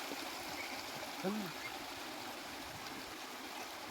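The Nagnath waterfall and its stream rush steadily in the distance, a soft, even wash of flowing water with a brief voice-like tone partway through.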